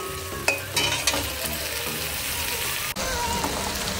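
Onion and tomato fry in oil in a pan with a steady, fairly loud sizzle and a few sharp stirring knocks, close up and without talk.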